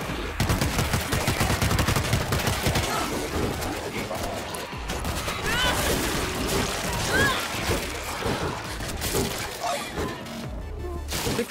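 Gunfire in the World War Z video game, rapid bursts of automatic weapons mixed with crashing, shattering impacts, loud and sustained throughout with game voices faintly beneath.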